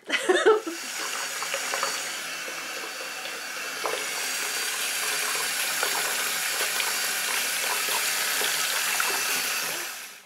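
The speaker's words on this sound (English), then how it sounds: "it's a matter of just squeezing that water out of her very, very gently" Water runs and trickles from a wet synthetic wig as it is gently squeezed by hand, a steady close splashing stream that lasts for several seconds after a brief louder start.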